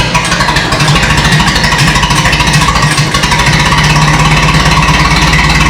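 A Minneapolis Moline tractor engine running loud and close, a steady rough low chugging with dense mechanical clatter throughout, no talking.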